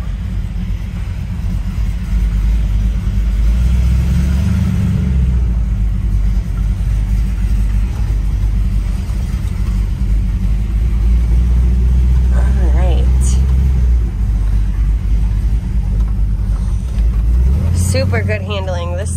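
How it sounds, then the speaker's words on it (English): A 1964 Ford pickup truck driving along, its engine giving a loud, steady low rumble throughout, with brief rises in pitch as it revs, heard from inside the cab. "Definitely has some rumble under the hood,"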